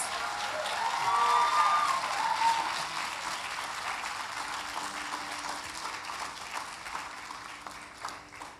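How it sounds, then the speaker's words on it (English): Audience applause after a Bharatanatyam arangetram dance performance, a soft, distant, sustained patter of many hands that swells briefly early on and then settles to an even, continuous level. "Please give Pujitha another round of applause"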